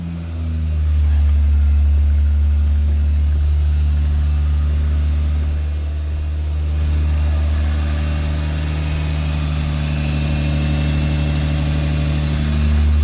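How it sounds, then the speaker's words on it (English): A 1977 Toyota Celica RA28 engine idles steadily after a cold start, a close, even low rumble with a slight lift in revs partway through and no talking over it. "It's a cold start."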